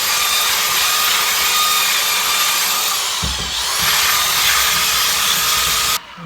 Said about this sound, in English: I'm going to take my belt sander and just break these edges a little bit